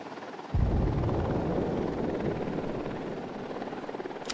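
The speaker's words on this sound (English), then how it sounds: "Helicopter incoming." Helicopter in the Ghost Recon Wildlands video game closing in, its dense rotor roar starting abruptly and holding loud and steady throughout with no voices over it.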